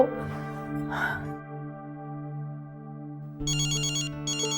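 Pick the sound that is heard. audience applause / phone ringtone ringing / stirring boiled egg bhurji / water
phone ringtone ringing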